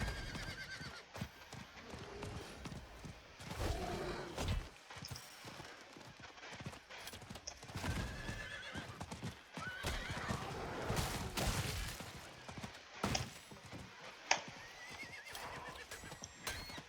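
Horse mount galloping in Diablo 4, with quick hoofbeats, snorting and whinnying running throughout over game sounds, fairly close and steady.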